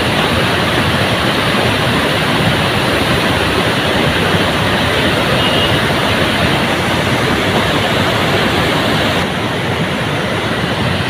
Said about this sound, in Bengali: বৃষ্টির কারণে কিভাবে পাহাড়ি ঢল নেমে আসছে এখানে।